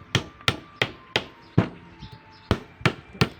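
Copper winding wire is hammered out of a washing machine motor, with about nine sharp metallic hammer strikes at a steady, slightly uneven pace, loud and close with short ringing decays.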